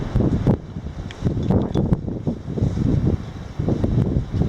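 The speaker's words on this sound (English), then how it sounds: "that wind is really starting to blow now" Gusty outdoor wind buffets and roars in uneven surges close to the microphone, rising and falling over a few seconds with faint rustling.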